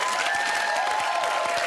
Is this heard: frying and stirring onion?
no